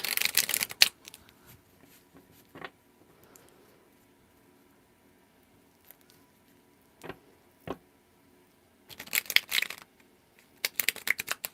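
Tarot cards are shuffled and pulled, with crisp riffling bursts at the start and end and scattered card snaps between quiet pauses.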